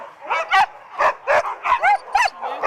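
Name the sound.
sled dogs barking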